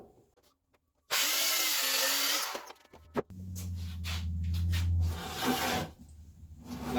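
A power tool cuts through pressure-treated 4x4 lumber. A loud motorized whine starts after a moment of quiet and runs for about two seconds, then gives way to rougher, uneven grinding and cutting noise with a low rumble beneath it.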